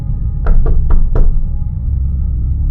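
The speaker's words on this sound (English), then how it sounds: "there was a knock at the front door" Four sharp knocks land on a front door in a quick, evenly spaced burst, loud and close, followed by a quiet room.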